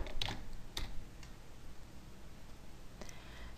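Soft, quick keystrokes on a computer keyboard as a field name is typed, a few sharper clicks near the start and end over a faint room hiss.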